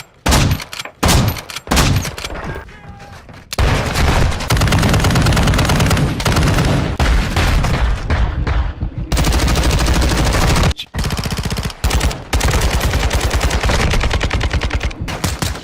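Rapid automatic gunfire in a video game shooter as a whole magazine is emptied, loud dense bursts with brief gaps, then sustained firing that cuts off in short pauses near the end.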